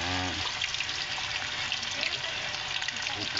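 A batch of chicken necks sizzling in boiling cooking oil, a continuous near hiss with fine crackling. A brief low voice is heard at the very start.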